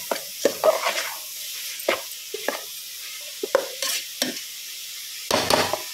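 A spinach and soya granule curry cooks in oil in a pan, the steady sizzle broken by repeated scraping and stirring strokes, close and fairly loud, with no one talking.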